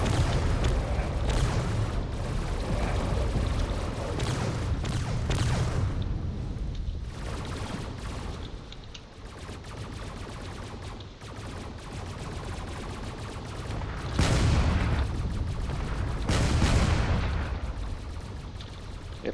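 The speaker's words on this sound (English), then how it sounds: "All these cannon shots are really doing a number on this ship." Frigate cannons firing at a ship in the space game Drone Wars, a dense, continuous barrage of booming shots and rumbling impacts with louder bursts near the end.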